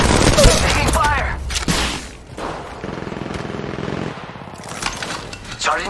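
Enemy fire in the mobile shooter Apex Legends Mobile: loud bursts of gunshots at the start, a quieter stretch of rapid rattling fire, then sharp shots returning at the end.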